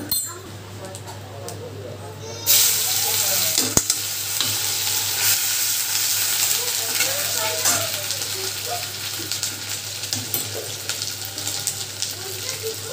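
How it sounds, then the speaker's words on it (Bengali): Onion and whole spices such as cumin, ginger and bay leaf fry and are stirred in a hot wok, a steady broadband sizzle that turns louder partway through, with scraping stir noises and a constant low hum beneath. "সব এক এক করে মশলা টশলা সব কড়াইয়ের মধ্যে দিয়ে দিলাম। এবার একটু হালকা নেড়ে ভেজে নেব।"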